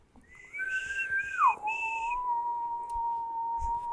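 A person whistles a clear sustained tune, gliding down from a higher pitch into a long steady lower note, close and alone.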